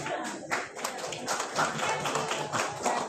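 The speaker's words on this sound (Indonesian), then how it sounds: "Ada yang mau tepuk tangan dengan tepuk tangan begini sih?" Scattered, thin audience clapping at an indoor teachers' seminar, an uneven patter of hands that starts and stops without building into full applause, with some background talk mixed in.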